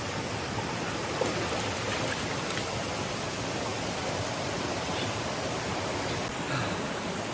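A stream on a farm flowing steadily, a continuous soft wash of running water at low level, unbroken and with no voices.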